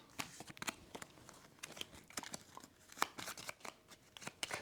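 Cards shuffling in the card-battler game Deck Rogue, a busy run of quick crisp flicks and papery snaps repeating unevenly throughout, fairly faint and with no talking.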